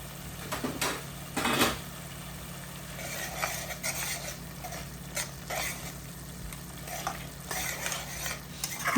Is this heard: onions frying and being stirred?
yes